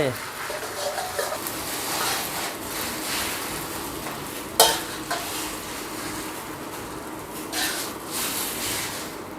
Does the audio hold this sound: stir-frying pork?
yes